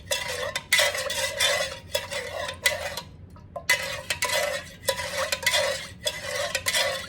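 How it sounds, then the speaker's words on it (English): Color being stirred into warm candle wax in a container, a steady scraping swirl with short bursts and a brief pause midway, close and alone. "all I'm doing is stirring in my little color"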